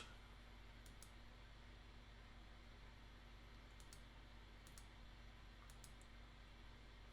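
A computer button is clicked in a quiet room, giving a handful of faint, isolated clicks spaced a second or so apart over a low steady hum.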